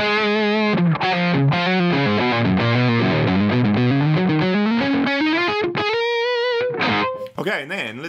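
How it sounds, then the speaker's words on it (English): An electric guitar runs through a Mesa Boogie Triple Rectifier amp simulation on its high-gain channel three, playing a loud, thick distorted riff with sliding and bending notes that ends in a ringing, wavering bend. "And then channel three is the more high gain."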